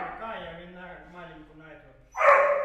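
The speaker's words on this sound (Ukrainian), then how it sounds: "Треба ну, піти подивитися, що вони там лають." Dogs barking at a dog walking area, a string of distant yelps and whines followed by a louder, closer bark near the end, with a person talking over them.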